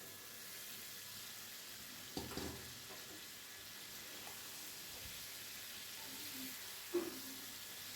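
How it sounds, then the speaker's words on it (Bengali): Fried cauliflower and potato are tipped into sizzling masala, producing a steady frying hiss with a couple of brief stirring knocks. "ভেজে রাখা ফুলকপি আর আলুটাকে আমি মশলায় দিয়ে দেবো"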